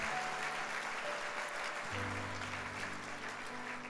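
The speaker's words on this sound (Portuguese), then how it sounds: "Dê um aplauso a Jesus." Church congregation applauding at a Sunday service, a faint, steady wash of clapping with a low organ or keyboard chord sustaining underneath.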